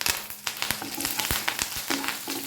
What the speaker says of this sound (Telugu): ఇవి చక్కగా వేగిపోయింది కదా, ఇప్పుడు కరివేపాకు వేసేసుకోండి